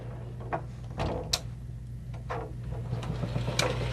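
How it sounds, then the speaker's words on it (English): A pocket door in a motorhome coach's bedroom slides along its track, with faint soft clicks, light knocks and brief scraping swishes over a low steady hum inside the quiet vehicle. "still be able to get back to a nice bedroom privacy space too, with an excellent pocket door slider"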